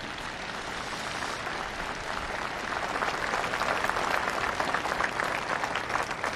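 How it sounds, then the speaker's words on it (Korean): A large audience applauds steadily, a dense sustained wash of clapping that swells slightly midway and continues to the end. "여러분 함께 감사의 박수를 보내주시기 바랍니다."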